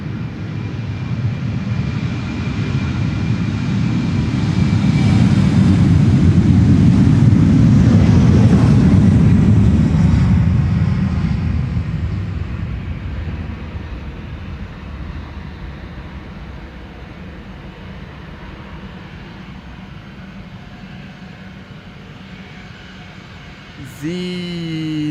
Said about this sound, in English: The airplane that is now spooling up on the threshold, from the threshold I should say, that's Britty Hopper going to Newcastle